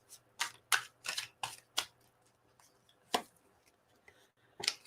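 Tarot cards are shuffled by hand in a series of crisp riffling bursts, several in quick succession followed by a couple more spaced apart, close and fairly quiet.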